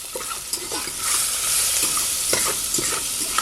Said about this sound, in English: I'm just giving everything a stir